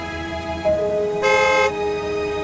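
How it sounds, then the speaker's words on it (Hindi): A car horn honks in a sustained blast over steady engine hum, sounding fairly close and loud for about half a second. "तभी पीछे से कार के हॉर्न की आवाज आई, जिससे ये दोनों चौंक गए"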